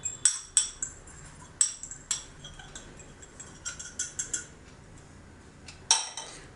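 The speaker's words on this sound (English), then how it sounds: "We'll just mix this ingredients well." A spoon stirs dry biscuit ingredients of wheat flour, salt, baking powder and baking soda in a bowl, with close sharp clinks against the bowl in an irregular rhythm over a soft dry rustle.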